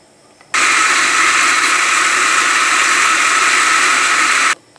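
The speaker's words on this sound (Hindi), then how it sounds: "अब आलू बुखारे के मिक्सर को ग्राइंड करेंगे।" A kitchen mixer grinder blends plums with sugar and salt for juice. It runs at a loud, steady, high-pitched whir for about four seconds, then stops abruptly.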